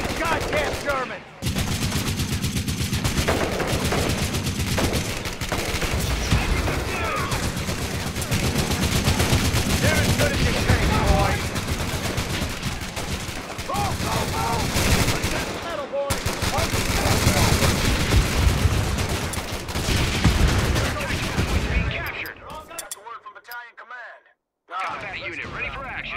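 Infantry gunfire in Company of Heroes 3, sustained rattling rifle and machine-gun bursts with loud shouting voices over them, continuing almost without pause before dropping out briefly near the end.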